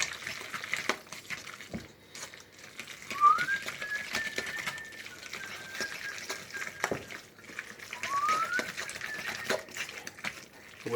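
Someone whistles a few soft, rising notes in two short phrases, faint against scattered clicks and clatter nearby.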